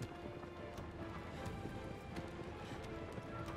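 Faint, rapid hoofbeats of a horse galloping in Shadow of the Colossus patter in a quick, continuous rhythm under a low wash of wind-like noise.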